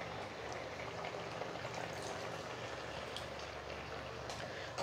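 A pot of curry bubbles and simmers steadily with tamarind water added, soft popping and gurgling close by and no voices, continuous for the whole stretch.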